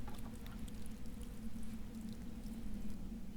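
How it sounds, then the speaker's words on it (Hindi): Water poured steadily onto a row of garden plants, one after another, giving a continuous low splashing pour with light trickling, close by and with no talk over it. "पानी तो डाल दिया, एक एक पेड़ में डल गया"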